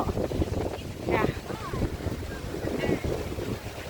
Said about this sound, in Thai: โอ้ยลมก็พัด